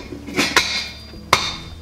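A lid is set onto a cooking pot of pea soup with potatoes on the stove, giving a couple of sharp metallic clinks, the last one loudest, with soft rattling between and no talking.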